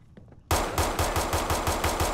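Rapid automatic gunfire in the video game Fallout 4, a loud burst of evenly spaced shots starting abruptly after a quiet moment and continuing steadily to the end.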